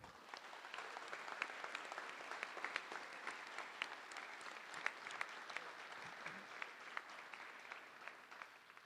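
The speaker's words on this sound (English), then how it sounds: "A round of applause for Patsy." A crowd at a Wakefield Veterans Day ceremony applauds Patsy Zagaria, a Korean War Army veteran. The clapping is faint and distant but continuous, with a few sharper claps standing out.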